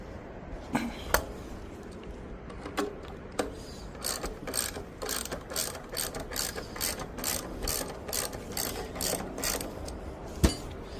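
Ratchet wrench clicking close up as it backs a carriage bolt out of a Schwinn bicycle seat, with bursts of rapid pawl clicks and a few louder knocks against a quiet background.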